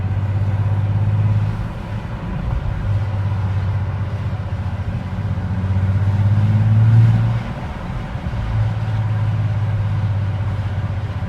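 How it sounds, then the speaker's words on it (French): A steady low engine rumble from inside a Bentley GT Speed (625 hp), swelling as it accelerates and easing off before settling back to a constant drone. "pour que vous puissiez entendre un peu le grondement du moteur parce que c'est vraiment un grondement"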